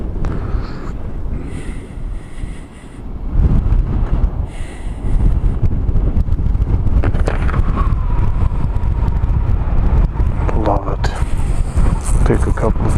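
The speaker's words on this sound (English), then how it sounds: "It's windy, pretty windy here." Strong coastal wind at Muir Beach Overlook above the Pacific Ocean buffets the microphone in a loud, steady roar with gusty swells, while someone talks over it.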